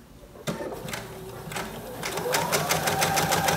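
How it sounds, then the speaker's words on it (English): Domestic sewing machine stitching a quarter-inch seam on a fully lined baby boy romper (McCall's M6304), a steady close rapid whirring stitch rhythm that starts abruptly and picks up speed, with a voice talking over it. "I'm just sewing along the top and bottom"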